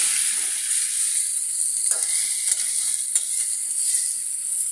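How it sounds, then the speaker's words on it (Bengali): Tengra fish frying in hot oil, a loud, steady close sizzle with a few sharp spatters and utensil clicks, no voices. "মাছগুলো একটু সাবধানে দিতে হবে, কারণ তেলটা গরম হলে মাছগুলো একটু ফুটে গায়ে আসে"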